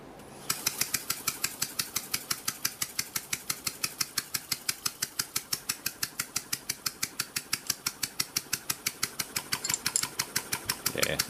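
A Copeland scroll compressor runs with a fast, regular mechanical knocking that holds a steady rhythm close up and picks up slightly toward the end.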